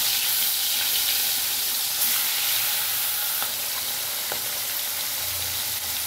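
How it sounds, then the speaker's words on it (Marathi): Pieces of fish fry in a pan with a constant, close crackling hiss that stays level throughout, with faint clicks here and there and no talking. "बाकी जो आहे ते पण तशीच फ्राय करून घेणार"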